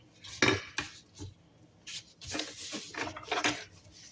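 A knife chops potatoes on a board in a home kitchen, several sharp irregular knocks and scrapes close up, with clinks of utensils between cuts.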